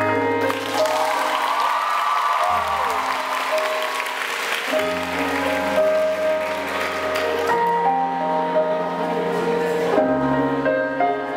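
An audience claps together over loud music, the applause going on for the whole stretch.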